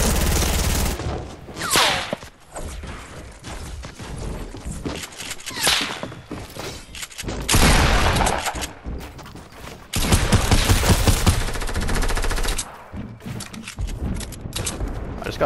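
Rapid bursts of gunfire in a video game duo squads shootout, loud and near, with volleys coming in clusters across the span and brief lulls between them.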